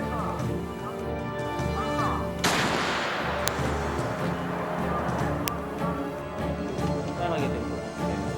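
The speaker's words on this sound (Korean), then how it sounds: "영하 10도를 넘나드는 강추위 속에 다음 사격 시험이 진행됐다" A K-9 self-propelled howitzer fires a single loud, sharp test round in freezing cold of around minus ten degrees, the blast cutting through a steady background hum and followed by a fading rumble and a few faint clicks.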